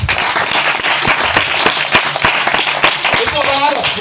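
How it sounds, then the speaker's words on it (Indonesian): An audience at a church gathering claps, with sharp, uneven hand strikes close by over a continuous bed of clapping, while voices and a brief call carry on beneath it. "tepuk tangan sekali lagi."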